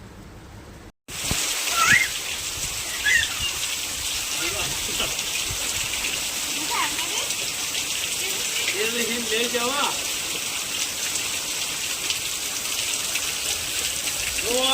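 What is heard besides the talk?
heavy rain falling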